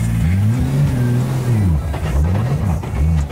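A drift car engine revs hard and accelerates, loud and close, its pitch rising and falling through several throttle pulls across the whole stretch.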